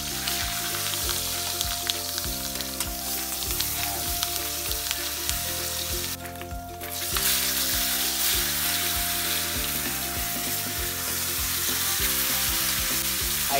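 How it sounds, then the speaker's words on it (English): Pork belly sears in a hot pan, sizzling and frying loudly and steadily throughout, with occasional stirring noises and no talk. "So, we will be searing all the sides ng ating pork belly."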